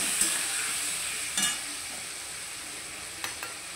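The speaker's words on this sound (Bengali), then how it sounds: "তো হলুদ গুঁড়োটা দিয়ে একটু কষিয়ে নেবো।" Spices cooking with turmeric powder and a splash of water, a steady hissing sizzle broken by a few brief scrapes of a spoon in the pan, heard alone without talk.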